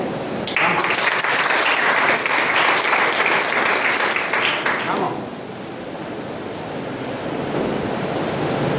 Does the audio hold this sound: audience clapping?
yes